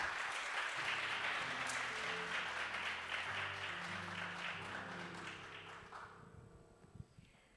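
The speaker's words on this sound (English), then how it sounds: "Applause, please." Audience applause for a private equity investor introduced as a judge at a startup pitching competition, a broad wash of clapping with music underneath that fades toward the end.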